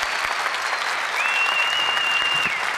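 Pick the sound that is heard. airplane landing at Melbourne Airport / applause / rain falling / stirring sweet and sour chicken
applause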